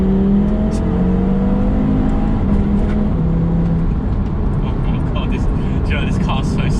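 A 2009-2016 Audi TT RS 8J with a five-cylinder engine accelerates hard in third gear, its loud, continuous engine roar rising steadily throughout.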